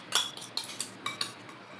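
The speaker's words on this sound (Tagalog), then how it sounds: "Mix na tayo ng ating salad." Metal utensils toss a diet salad in a bowl, giving a handful of quick clinks and scrapes in an uneven rhythm, close and crisp with no talk.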